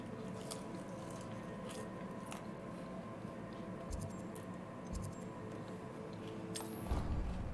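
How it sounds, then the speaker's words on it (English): Someone chews snacks close to the microphone during a Hogwarts Legacy gaming session: soft, irregular bites and mouth sounds under a steady bed of game ambience. "Sorry in advance if you hear me chewing."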